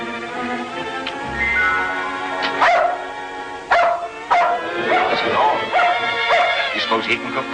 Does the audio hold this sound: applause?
no